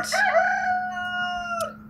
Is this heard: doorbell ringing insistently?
no